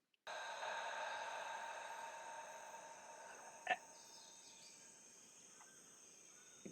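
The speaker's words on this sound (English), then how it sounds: "Like if we listen to the FX track, you can hear there are crickets in there." Crickets chirr in a music track's sound-effects layer, a steady faint high trill that runs throughout, with one brief soft click partway through.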